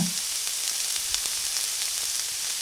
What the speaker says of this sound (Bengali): এখন আমি আমগুলোকে দুই থেকে তিন মিনিটের জন্য হালকা আঁচে একটু ভেজে নেব